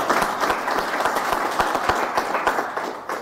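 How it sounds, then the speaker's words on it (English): Attendees at a government engagement meeting on information, communication and the digital economy clap, sharp individual claps standing out in an uneven, moderately loud round of applause indoors. "I want you to clap for everybody who did that."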